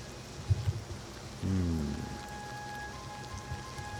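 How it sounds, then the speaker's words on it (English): Soft, steady rain falls across an outdoor scene in The Elder Scrolls IV: Oblivion Remastered, a faint even hiss lying under a few brief thumps and a low sustained tone. "Started raining while we were inside."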